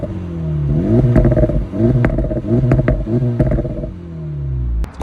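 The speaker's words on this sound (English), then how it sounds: "it gives you these low-end burbles" A 2024 Acura Integra Type S exhaust burbles low and close, with a stuttering, crackling rhythm of pops that recurs through several short bursts before easing off near the end.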